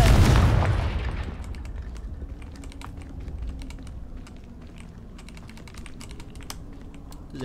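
A Confringo blasting spell bursts in Hogwarts Legacy as one loud, booming impact that decays over a few seconds into a quiet background scattered with keyboard clicks.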